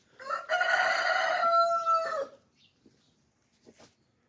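A crossbred rooster crows loudly and close by in a poultry pen at a small breeding farm, one long harmonic call of about two seconds followed by a few faint clucks and rustles.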